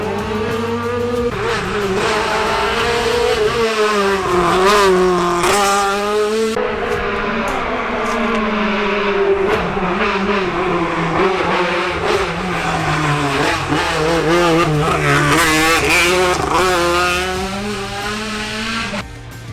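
A rally car engine revs hard during a race, climbing and dropping in pitch through repeated gear changes with brief tire noise, loud and continuous with no talk.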